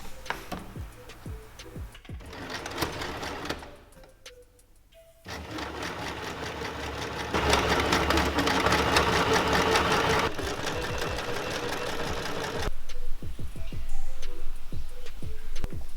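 A sewing machine stitches a shirt in bursts of rapid mechanical ticking, pausing briefly and then running again in longer steady stretches, close and moderately loud with no talking.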